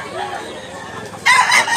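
A rooster crows briefly near the end over a low hum of background chatter at a chicken market in Mantalungon, Cebu, the crow bright and fairly close.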